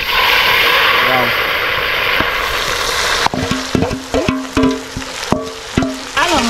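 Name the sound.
onion mixture being stirred in hot oil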